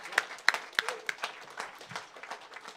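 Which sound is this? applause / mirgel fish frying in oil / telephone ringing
applause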